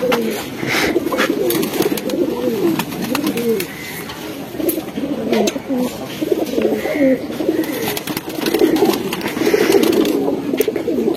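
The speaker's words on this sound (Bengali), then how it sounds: "তো ভাই কিছু কবুতর দেখান।" Racing pigeons, including a black-necked line hen kept at a home loft, coo in repeated throaty rolling phrases up close and loud, with faint chirps and clicks scattered over the steady cooing.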